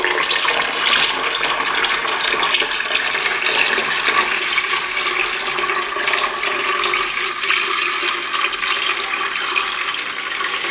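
Brine mix for home-cured pork belly bacon stirred into cool water in a brining bucket, a steady loud swishing and sloshing of water with scraping stirs, no talk.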